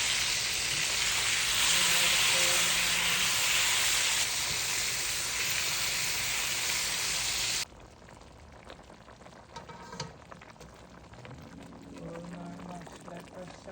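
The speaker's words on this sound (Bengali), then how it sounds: "আমাদের বিফ কাবাব ভাজছি।" Beef kebab fries in hot oil with a loud, dense, hissing sizzle for several seconds, then the sound drops to a softer crackle with scattered clinks and pan noises.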